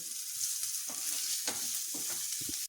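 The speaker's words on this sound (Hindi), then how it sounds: "अब इसमें हम ये स्लाइस किया हुआ प्याज डाल देंगे और इसको थोड़ा गोल्डन ब्राउन होने तक भून लेंगे" Sliced onion frying in oil until golden brown, a bright steady hiss close by with repeated soft scraping strokes of a spatula stirring through the pan.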